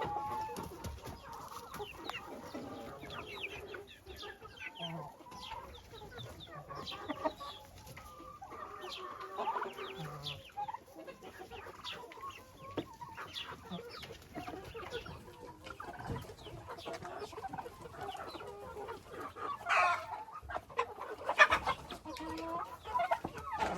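Hens and roosters clucking in a coop, a dense, steady chorus of overlapping clucks and calls close by, with no talk.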